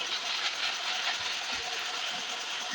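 A moving train gives off a steady, moderately quiet broadband rumble and rattle that continues unbroken, with no voices.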